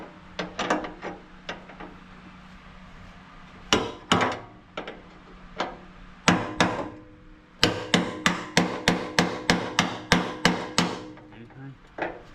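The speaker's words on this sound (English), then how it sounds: "And then give it a tap with that socket." Sharp metallic taps on a socket seated over a nut on a Ford Bronco axle during an overhaul teardown come in scattered strikes at first, then in a rapid regular series of close, loud hits.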